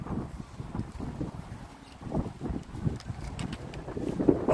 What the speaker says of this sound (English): Oh, it's really windy over here.